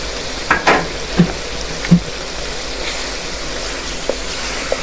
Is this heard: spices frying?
yes